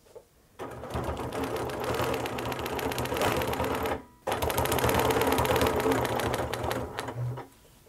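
A sewing machine quilts a straight line along a quilting ruler, running fast and steady with a dense mechanical whir and needle rattle, briefly pausing once and then resuming before stopping near the end.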